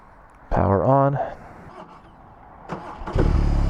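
A BMW R 18 motorcycle engine cranks with a whirring starter, then catches and settles, later rising into a loud rough rumble; a voice is heard between.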